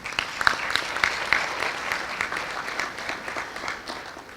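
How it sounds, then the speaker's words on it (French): Audience applause at a law fair, a dense sustained burst of clapping from a crowd with a few sharper claps standing out early, gradually easing off. "Je vous demande de les applaudir"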